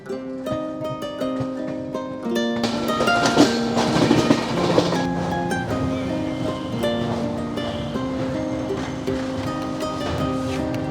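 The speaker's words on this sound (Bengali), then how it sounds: "শিয়ালদহ স্টেশন ছেড়ে দিল" The Humsafar Express pulls out of Sealdah station in Kolkata, a loud, steady rumble of the moving train with sustained tonal hums and wheel noise building and continuing throughout, with no voices.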